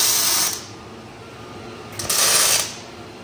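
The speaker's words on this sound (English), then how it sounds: "Tack weld it pretty decent." Tack welding on a vehicle's front suspension while setting caster, two short crackling bursts of hissing arc a second or so apart, close and fairly loud with quiet hum between.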